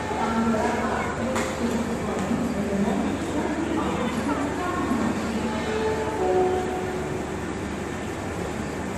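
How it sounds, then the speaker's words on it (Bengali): A Vande Bharat train pulls into a station, a steady low rumble and hum of rolling stock sustained throughout at moderate loudness, with voices murmuring on the platform underneath. "বন্দে ভারত ঢুকছে।"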